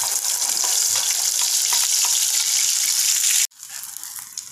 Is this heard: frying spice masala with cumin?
yes